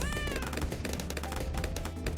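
A cat meows repeatedly in short, rising cries, close and fairly loud, with faint thumps underneath.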